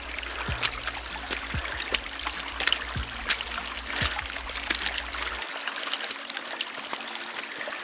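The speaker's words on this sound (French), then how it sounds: "Le chemin qui devient un ruisseau." Rainwater running down a steep mountain hiking trail turned into a stream, a steady close trickle and babble with scattered splashes from footsteps, no talking.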